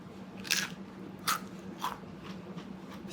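Close bites into crispy Jollibee ChickenJoy fried chicken, three or four quiet crunches spaced about half a second apart over a low hum.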